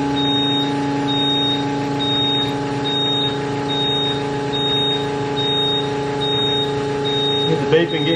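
Steady repeating electronic beeps from a Kubota KX057-4 excavator during refuelling, sounding in a regular rhythm over a constant engine drone, with a brief clatter near the end.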